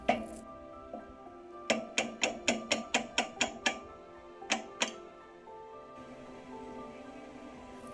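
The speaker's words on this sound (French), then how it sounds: "des petits coups de marteau avec une canne en bois pour ne pas abîmer" Hammer blows tap a rusted circlip out through a wooden rod on a concrete mixer under restoration, a quick run of about eight sharp metallic knocks followed by two more, close and distinct.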